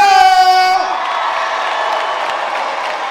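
Cheering and clapping rise from a high school graduation crowd after a brief tonal sound at the start, a loud, broad wash of applause with shouts that carries on steadily.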